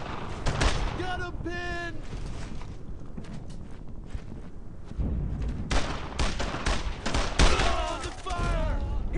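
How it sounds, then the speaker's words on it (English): Bursts of covering gunfire and distant explosions ring out in the World War II shooter game Brothers in Arms, with rapid shots and impacts under shouted soldier voices and radio chatter. "Covering fire."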